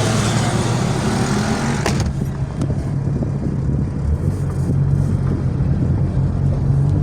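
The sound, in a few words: road traffic noise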